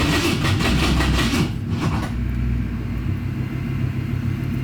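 A 1965 Ford Mustang with haphazardly wired ignition cranks and churns roughly for about two seconds with a pulsing rumble, then the effort drops away to a lower steady drone.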